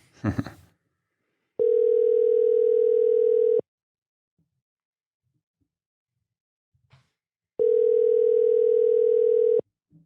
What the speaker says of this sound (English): So ringing once.